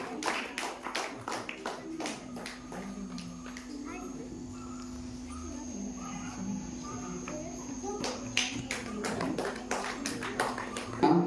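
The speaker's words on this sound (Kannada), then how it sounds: "ಒಂದು ಜೋರ ಚಪ್ಪಾಳೆಗಳು ಕೂಡ ನಾವು ವೇದಿಕೆ ಬರಮಾಡಿಕೊಳ್ಬೇಕಾಗಿ ವಿನಂತಿಸ್ತಾ ಇದ್ದೇವೆ" Audience at a Karnataka Janapada Parishat folk festival anniversary program in Kalasa claps loudly in bursts, with sharp hand claps at the start and end framing a steady murmur of crowd noise and talk.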